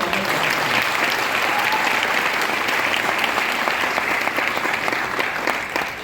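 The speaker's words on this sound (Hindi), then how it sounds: "एक बार जोरदार ताली" Loud, sustained applause from a crowd at a Vestige business leadership event, steady clapping filling the whole stretch without letting up.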